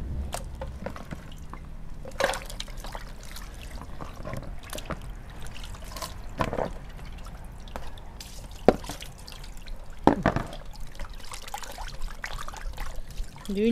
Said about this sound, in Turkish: Şimdi kemiklerimizi yıkıyoruz.